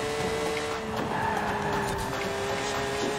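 A Porsche GT3 RS corners in the racing game Forza Horizon 4, a steady engine drone with faint tire squeal carrying on throughout at an even level, with no talking.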